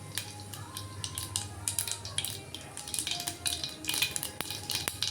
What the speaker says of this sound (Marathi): मोहरी छान तडतडली की त्याच्यामध्ये जिरं टाकूयात